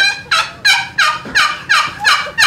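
Hand-held turkey call imitating a squeaky hen turkey in the woods: six evenly spaced, bright yelping notes in a steady rhythm, loud and close, with no talking.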